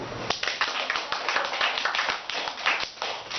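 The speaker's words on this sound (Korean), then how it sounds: "박수." Audience clapping at a Korean monthly lecture's question-and-answer session, a modest group clapping in uneven, distinct claps with a slightly sparse rhythm, lasting a few seconds.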